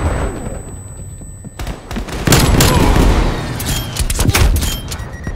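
Sentry turret gunfire in a video game: after a quieter stretch, loud rapid bursts of shots break out and continue in dense, uneven volleys to the end.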